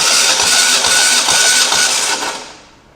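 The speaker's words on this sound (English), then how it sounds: "That starter sounds real unhappy." A starter motor laboring as it cranks a boat engine with no oil in the cylinders during a dry compression test, a loud, strained, continuous churning that fades out at the end.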